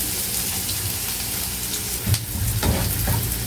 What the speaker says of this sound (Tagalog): Haluin lang natin ulit hanggang sa mag-caramelize yung onion